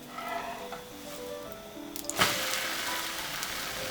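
Thin pancakes fry in a pan with a quiet, steady sizzle, a sharp clatter of a utensil against the pan cutting in near the middle.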